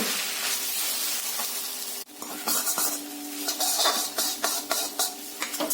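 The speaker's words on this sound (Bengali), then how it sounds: "হালকা ফ্রাই করব।" Egg chicken chowmein with soy, red chili and Schezwan sauces fries in a hot pan street-food style, a loud steady hiss that briefly drops out, then resumes with rapid clattering tosses and metal scrapes.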